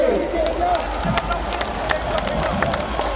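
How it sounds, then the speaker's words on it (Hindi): At a Hindu New Year celebration in Udaipur, a large crowd claps loudly and continuously with scattered cheering, with a voice heard under the dense applause. "जब तक इस माइक से रोका नहीं जाए तब तक ताली बजाइए"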